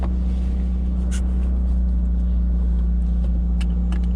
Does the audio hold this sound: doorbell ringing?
no